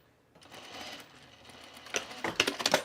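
A sewing machine finishes a French seam on a shirt, a faint whir building into a quick run of sharp clicking stitches and thread-end clatter at the end, close by.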